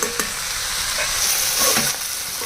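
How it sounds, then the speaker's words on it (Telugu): Salted onion curry stirred in a frying pan, a loud, close, constant sizzle with a few spoon scrapes against the metal. "సాల్ట్ వేసిన తర్వాత ఈ విధంగా కలిపేయాలి"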